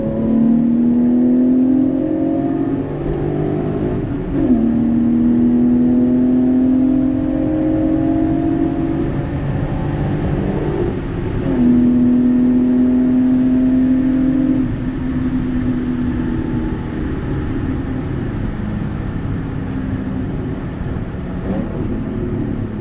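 A BMW E30 drives on the road, its engine droning loudly as it accelerates through several rising gears with short breaks at each shift, steady road roar underneath, heard from inside the car.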